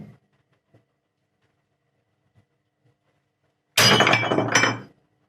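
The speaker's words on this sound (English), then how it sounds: "That mug was not hammerproof" A ceramic mug is struck with a hammer and shatters in one loud, close burst of breaking and clinking pieces that lasts about a second, after near silence broken only by a few faint small bumps.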